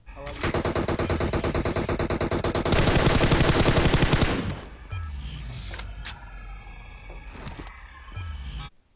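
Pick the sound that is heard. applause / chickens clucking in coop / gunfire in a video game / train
gunfire in a video game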